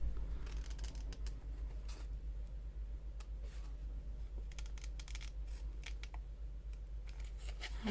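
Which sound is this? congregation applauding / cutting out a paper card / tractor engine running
cutting out a paper card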